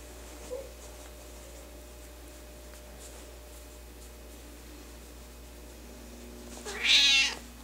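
A single short meow near the end, close and fairly clear, after a long stretch of quiet room hum with a faint tick early on.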